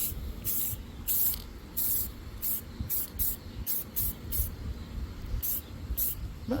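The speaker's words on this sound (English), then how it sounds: "just going to spray these up, get these all ready to go." Outdoor spray painting of World War 2 reenactment props, heard as a series of short, sharp hissing bursts from a spray can at an irregular rhythm over steady background ambience.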